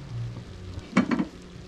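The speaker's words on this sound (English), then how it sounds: "lay it sizzle in the pot" Guyanese fried rice sizzles softly in a pot on a low stove, with a faint steady fry under a couple of brief stirring scrapes and bursts close by.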